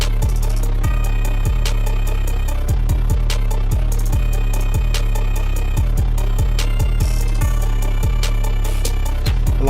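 Hip-hop beat from a producer six months in, with heavy booming bass, sliding 808 notes and crisp hi-hat and snare hits looping in a steady groove, loud and alone.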